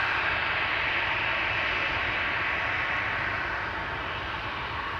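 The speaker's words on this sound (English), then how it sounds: "KLM 737 lining up here." A KLM Boeing 737 lines up on the runway at Amsterdam Schiphol, its engines giving a steady, loud broadband roar that stays constant and close throughout, with no talk.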